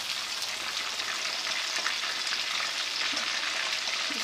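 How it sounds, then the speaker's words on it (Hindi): Beef kofta meatballs fry in hot oil with a steady, close sizzle and crackle that holds without a break. "3 से 4 मिनट भी कोफ्ते हो चुके हैं फ्राई,"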